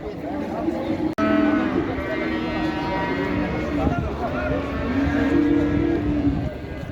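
A one-month-old calf moos in long, low calls at a busy livestock market in Xaçmaz, close and loud over steady crowd murmur and people talking nearby.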